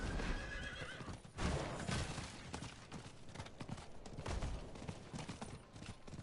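Horse in the Diablo 4 game on PS4 neighing and whinnying while its hooves clip-clop steadily, with loud combat noise around it and no talking.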